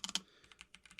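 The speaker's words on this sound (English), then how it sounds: "so you could really hear the keycaps" Typing on a Higround Basecamp 96 compact keyboard, quick close-up clicks of the keycaps in a brief irregular burst, fairly quiet and with no speech.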